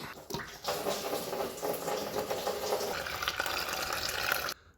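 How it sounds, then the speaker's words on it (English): Coolant pours from the drain of a Peugeot 107 engine into a container, a steady close splashing rush of liquid for about four seconds that cuts off abruptly. "Okay, so I can already feel the coolant coming out."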